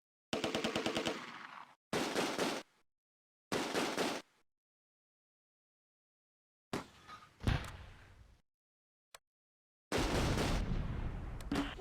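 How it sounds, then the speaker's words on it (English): Machine gun fire in the wartime strategy game Close Combat: A Bridge Too Far, with several sharp loud bursts separated by silence, followed by heavier crashing shots and a final long burst. "We're under heavy fire."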